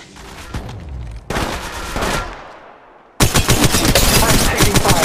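Gunfire in Apex Legends Mobile, loud rapid automatic bursts with close, repeated shots, a brief lull, then a dense, sustained volley.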